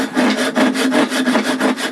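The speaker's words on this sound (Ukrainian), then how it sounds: "Цією пилкою я ріжу вздовж волокон, не поперек. Ріжу дуже суху стару черешню." A hand saw rip-cuts along the grain of very dry old cherry wood, with rhythmic rasping back-and-forth strokes, about eight close, loud and steady, with no talking.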